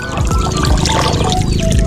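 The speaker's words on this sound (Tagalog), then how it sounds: "source ng tubig ko dito yun tumulo na po siya ng kusa" Water runs from a farm faucet that flows on its own in the rainy season, a loud, close, steady trickling splash that continues unbroken throughout.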